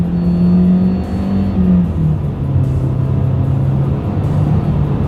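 A 2023 Mitsubishi Eclipse Cross accelerates in first gear using its paddle shifters, a steady close engine drone climbing in pitch with a slight dip partway, then holding under a constant rumble.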